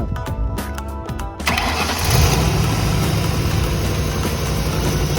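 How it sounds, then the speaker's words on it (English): A car with a bad starter relay is hot-wired with a jumper wire: several short clicks and cranking bursts, then the engine catches and settles into a loud, steady idle close by. "I started this car with just a wire"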